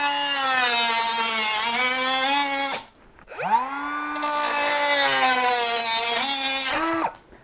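A Makita 18V compact cutter cuts thin metal in two long, loud bursts, with a steady high whine that drops away briefly near the middle before spinning back up.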